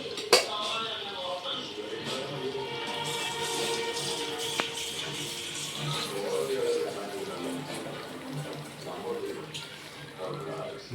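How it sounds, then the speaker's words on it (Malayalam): Water is poured into a pot of Kerala-style chicken makody curry, a soft splashing and clatter of the pot under continuous nearby talking. "നമ്മൾ ചിക്കൻ മക്കോടിയിലേക്ക് നമ്മൾ അല്പം വെള്ളം ആഡ് ചെയ്യാൻ പോവുകയാണ്"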